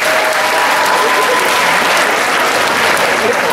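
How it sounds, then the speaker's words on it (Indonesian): A dense crowd at a formal Indonesian civic gathering applauds a guest, producing loud, continuous clapping with a faint murmur of voices mixed in throughout. "Tepuk tangan dulu untuk Desi Ratnasari."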